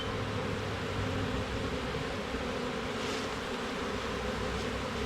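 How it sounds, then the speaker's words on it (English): A dense, steady buzz of many honeybees at a hive in a tree, continuous and fairly close, with no voices. "There's still a lot of bees up there."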